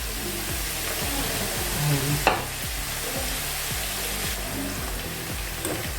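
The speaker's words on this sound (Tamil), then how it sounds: "நம்ம வச்சுருக்கிற இந்த கீரையை கொஞ்சம் கொஞ்சமாக போட்டு அப்படியே பொரிச்சு அள்ளிக்க வேண்டியதுதான்" Spinach leaves deep-frying in hot oil crackle with a steady, close sizzle, broken by rhythmic scraping strokes of a ladle and one sharp clink partway through.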